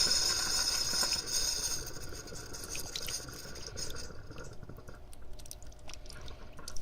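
Water runs faintly from a tap with a soft, hissing splash that gradually thins into irregular trickles and drips.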